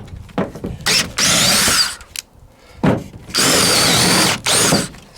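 A Dewalt 20V compact drill whines in loud bursts, repeatedly bogging down as the bit grabs and kicks, with short pauses between the surges.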